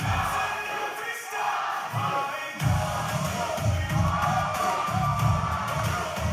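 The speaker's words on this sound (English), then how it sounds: "And listen to the crowd. Deafening." A wrestling arena crowd roars at a live event, loud sustained cheering and chanting with rhythmic thumping stomps or claps, while a commentator's voice sits on top.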